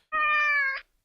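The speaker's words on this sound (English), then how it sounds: "It's your cat." A cat meows once in a played recording, a single loud, clear, drawn-out meow lasting under a second, heard alone with no other sound.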